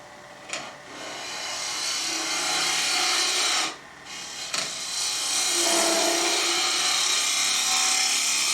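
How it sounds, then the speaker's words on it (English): A ball gouge flattens the inside of a small turned wooden box on a lathe, giving a continuous close rasping scrape that stops briefly twice, once near the start and again midway, before carrying on steadily. "flatten this off with my ball gouge"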